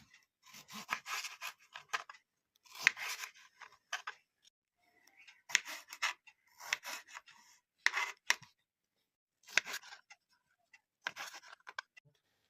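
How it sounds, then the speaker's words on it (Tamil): Onion, green chili and tomato being chopped by hand, a series of short bursts of knife cutting with brief pauses between them, close and fairly quiet, with no talking. "வெங்காயம், பச்சை மிளகா, தக்காளி அரிஞ்சு எடுத்தாச்சு"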